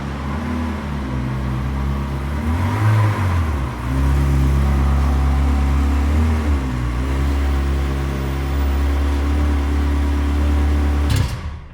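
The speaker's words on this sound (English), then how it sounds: "We'll just park the car back in the garage and see if anything drips out." A Ferrari 360 Modena with a coolant leak rolls slowly into a garage, its engine giving a loud, steady low idle rumble with a slight swell partway through, then cutting off abruptly at the end.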